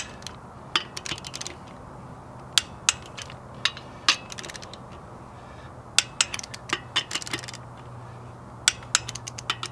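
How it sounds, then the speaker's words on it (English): Lug nuts on a Subaru Forester wheel are torqued in a star pattern to 50 foot-pounds, with sharp metallic ratchet clicks and clinks coming in irregular bursts over a low background hum. "We're going to torque this in the star pattern to 50 foot-pounds."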